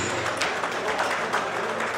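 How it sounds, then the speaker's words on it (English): Audience at a gala fundraising night for the Nkwerre Aborigines' Union-USA clapping together, a dense steady patter of many hands from a nearby crowd, holding at an even level throughout. "Round of applause."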